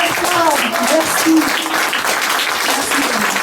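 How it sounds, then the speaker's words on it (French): An audience applauds at a live music show, a dense, steady round of clapping with voices and a few shouts mixed in, heard for the whole stretch. "Applaudissez-les très fort."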